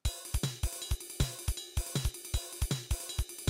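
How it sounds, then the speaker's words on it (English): A steady drum groove plays, with sharp snare hits and kick thumps in a regular pattern under a shimmering ride cymbal struck between its bell and body. "that's between the bell of the ride cymbal and the body of the ride cymbal"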